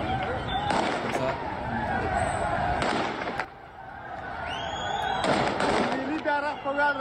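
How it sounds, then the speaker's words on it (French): Bursts of gunfire crack out at a demonstration near an airport under Taliban control, loud against a constant crowd hubbub and scattered shouting as people panic and run. "les tirs ont provoqué un mouvement de panique dans la population"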